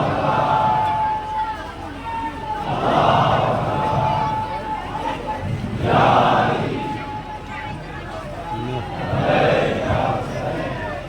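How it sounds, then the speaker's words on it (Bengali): A crowd at a religious gathering shouts the takbir (Allahu Akbar) in unison, three swelling collective cries that rise and fade at regular intervals, each following a lead voice. "রাসূলে খোদা বললেন যখন আমি তাকবীর দিয়েছি তাহলে আমাকে স্মরণ করে তোমরাও একবার তাকবীর দাও"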